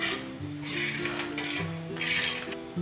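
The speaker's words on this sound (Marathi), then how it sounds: "इथे तुम्ही पाहू शकता सांडग्याचा आवाज किती छान असा कडक येत आहे" Crisp roasted moth bean sandge stirred on a hot griddle, giving close dry rattling, scraping and clinking in uneven bursts over a steady faint background hum.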